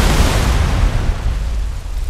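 A video game explosion in Watch Dogs 2, a deep booming blast that starts loud and dies away into a rumbling broadband roar over about two seconds, heard alone with no talk.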